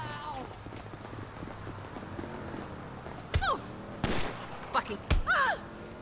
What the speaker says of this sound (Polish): strzelają do mnie, co jest?